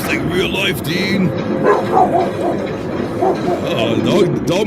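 A dog barks and yips repeatedly in short bursts, with some whimpering, over ongoing background chatter and noise from a casual live stream.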